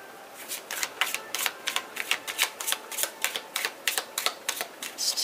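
A tarot deck shuffled by hand, steady rhythmic papery snaps and flutters repeating for several seconds, close and clear without speech.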